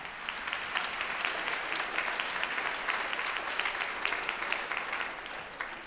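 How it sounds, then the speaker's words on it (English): Steady, moderately distant applause from a crowd at a Martin Luther King Day celebration in Montgomery County, Maryland, many hands clapping evenly for several seconds with no talk over it. "So I think you should all give yourselves a round of applause."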